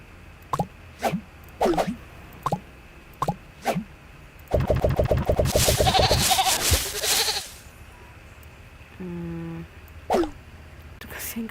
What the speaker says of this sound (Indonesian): Itu kasihan kambing putih sendiri kagak ada temen.